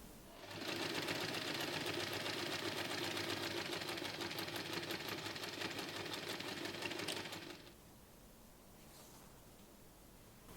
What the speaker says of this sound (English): Align the center marks and sew right along the press crease.